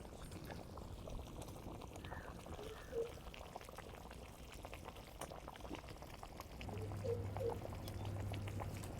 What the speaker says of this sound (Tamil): இப்போ குழம்பு நல்லா கொதிச்சிடுச்சு